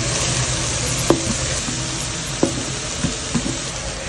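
Shredded chicken seasoned with salt, turmeric and chaat masala sizzles in a pan over high heat, a steady broad hiss broken by a few sharp scrapes and knocks of stirring.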